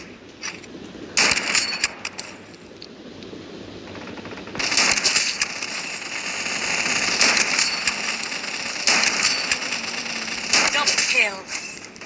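A PKM machine gun fires in the shooter game Blood Strike, with loud sustained bursts and rapid crackling volleys separated by brief pauses, mixed with other in-game effects.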